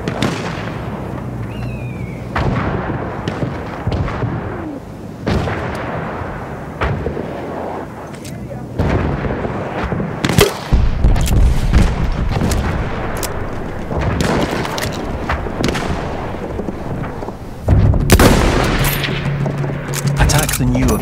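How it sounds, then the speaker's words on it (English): Enemy artillery barrage in the World War I shooter Battlefield 1, heavy booms and dense gunfire bursts rolling continuously throughout, some near and loud, layered over constant battlefield rumble with occasional voices. "Wait for the enemy artillery barrage to stop firing."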